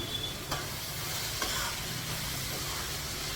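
Mutton being roasted in a pan with onions, ginger-garlic paste and green chillies, giving a steady close sizzle with a couple of brief scraping stirs, no voices.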